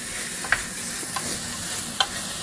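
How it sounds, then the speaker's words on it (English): Ingredients for white chicken chili sautéing in a pan, a steady soft sizzle with a few light clicks of a utensil stirring, no talking. "now we're just going to saute this"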